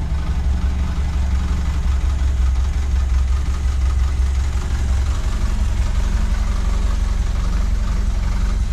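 A Renault R8 engine, a 1397cc swap, idles steadily with a deep, even rumble and some loose rattling mixed in, close by and continuous throughout.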